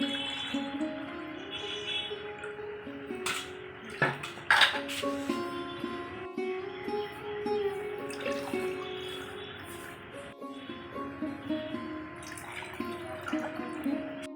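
Burnt mango sherbet is poured into a glass in a ringing, gurgling stream with a few clinks and splashes, pausing briefly and resuming, close up and without speech.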